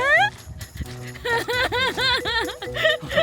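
A dog whimpers and whines in a series of short, high, wavering cries close by, with some faint voices and background noise.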